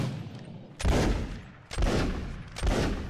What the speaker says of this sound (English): Right, from the left to the right again, we're going to have a ripple fire.